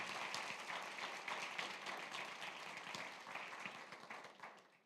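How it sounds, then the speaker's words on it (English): Applause for teachers at a Board of Education meeting, a room of people clapping together in a moderate, continuous patter that stays fairly even and quiet before tapering slightly at the end. "one more round of applause for our teachers here"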